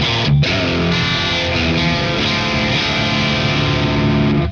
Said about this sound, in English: there's quite a bit of hum.